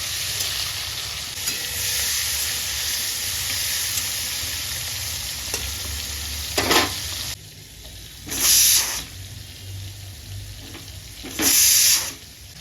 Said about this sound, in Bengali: লবণ হলুদ মাখানো চিংড়িগুলো ভেজে দিয়েছি